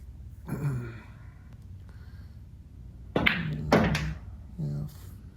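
Pool balls are struck with a cue and knocked into a pocket on a pool table, giving a few sharp knocks and thuds spread over a few seconds, with some brief vocal sounds in between.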